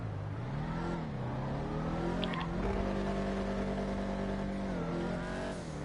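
Video game car engine revving and dropping in pitch during a failed double-clutch attempt, with a brief grinding shift partway through, steady and fairly loud with no talking.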